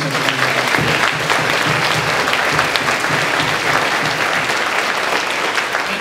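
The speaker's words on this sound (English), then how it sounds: "Please join me in giving a round of applause to them and all the staff members that did such a wonderful job." A school crowd gives a sustained, dense round of applause for teachers and staff at a fifth grade moving up ceremony, loud and even throughout with a few faint voices underneath.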